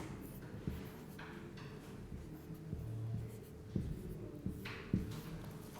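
Writing on a board during a computer science lesson makes soft scratching strokes with a few sharp taps, steady and close in a quiet room, with no talk.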